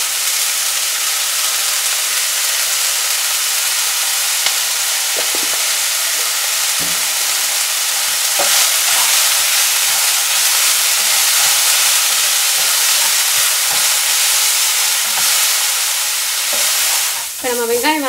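Salted onions sauté in a pan for aloo paratha filling, with a constant close hiss and sizzle throughout and occasional soft stirring scrapes.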